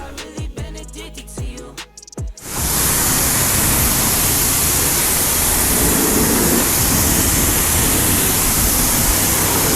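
After a few brief clunks and knocks, a strong, steady hiss of water spray starts washing a filthy 1955 Chevy rat rod shop truck and runs loud and unbroken to the end.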